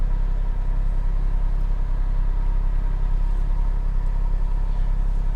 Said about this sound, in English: The Cobb exhaust sounds really good, gives it a very clean, refined sound